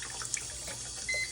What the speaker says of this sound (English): go ahead and just run it under the faucet